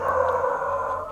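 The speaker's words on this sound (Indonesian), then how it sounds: "ada anjing menggonggong" A dog gives one sustained, tonal, howl-like vocalization that holds steady for about a second, moderately loud and heard alone.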